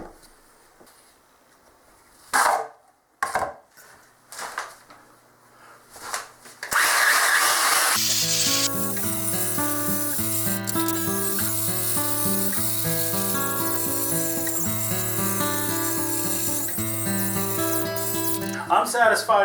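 An electric chainsaw smoothing the underside of a live edge wood slab runs loud and steady after a few short bursts, a continuous whirring buzz with shifting tone as it cuts.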